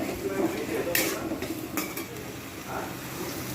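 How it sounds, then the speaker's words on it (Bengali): Tomatoes stirred into fried onions in a pan for a home-style prawn curry: soft sizzling with scraping stirs and light clinks of a utensil against the pan, while someone talks over it. "এইবার আমি এর মধ্যে দিয়ে দেবো টমেটো"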